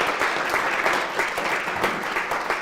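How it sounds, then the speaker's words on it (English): Audience at a Rotary roast and recognition evening applauds a platinum sponsor, TBK Bank: steady, dense clapping from a sizable crowd throughout, even and moderately loud with no voices. "Give them a round of applause"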